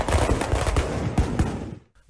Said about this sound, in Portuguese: Fogos de artifício foram usados como armas e as ruas viraram ringues.